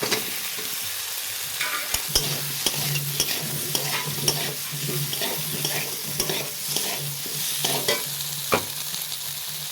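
Potatoes frying in a pan with soaked neem leaf paste, stirred with repeated scraping clicks and a steady sizzle underneath; close and moderately loud, with no voices.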